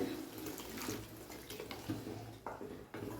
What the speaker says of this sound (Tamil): இதில் கொஞ்சம் தண்ணி ஊற்றிக்கிறேன்